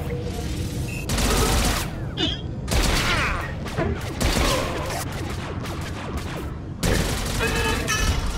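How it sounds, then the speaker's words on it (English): Sweeping automatic blaster fire from the Smuggler class in Star Wars: The Old Republic, loud sustained bursts with short pauses between volleys, mixed with impacts, enemy effects and layered combat noise. "I do like the sweeping gunfire"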